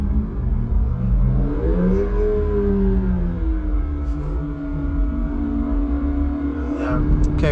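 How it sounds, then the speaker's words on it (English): Car braking and shifting down from third to second with a heel-and-toe throttle blip: a steady close engine drone inside the cabin, a brief rise and fall in revs from the blip, then the lower note carrying on. "Okay, so now we're going to brake, get it into second."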